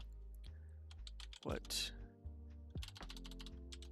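Computer keyboard typing during work in image-editing software, a run of close clicky keystrokes mixed with a person speaking.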